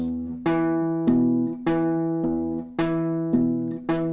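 Strummed guitar chords with muted, percussive slaps landing on beats 2 and 4, in a steady repeating rhythm with no voices.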